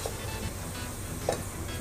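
Sliced onions frying in hot oil for a Delhi-style mutton korma: a steady, dense sizzle holds throughout with a couple of faint pops.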